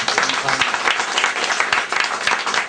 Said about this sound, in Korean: 다 같이 박수하겠습니다